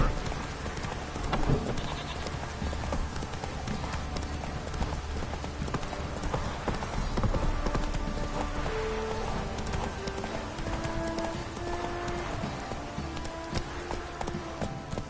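Roach the horse trots along in The Witcher 3, its hooves clip-clopping in a steady rhythm over a busy background of game ambience.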